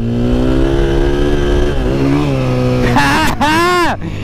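A 2020 KTM 500 EXC-F dirt bike engine drones steadily, then revs hard in two sharp bursts near the end as the rider pops a wheelie; loud and close.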